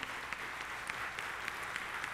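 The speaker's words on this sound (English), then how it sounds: "So let's give them all a big round of applause." A round of applause for a band's drummers fills the room, steady dense clapping from a crowd with a few sharper claps standing out, no talking.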